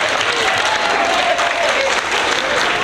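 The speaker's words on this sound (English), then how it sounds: "Applause, Ms. Dwyer." A school assembly audience applauding Ms. Dwyer at a seventh-grade honor roll event, a loud, even wash of many clapping hands held steady throughout.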